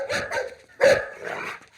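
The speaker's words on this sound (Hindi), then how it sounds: "अबे कुत्ते क्यों भौंक रहा है?" Inside a car in a comedy film scene, a dog lets out three sharp barks close by, the middle one loudest, with brief whimpery tails between them.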